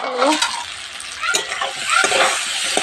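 Jackfruit seed curry with potato and pointed gourd sizzles and fries in a pan, with steady crackling and stirring scrapes close by, rising in bursts throughout.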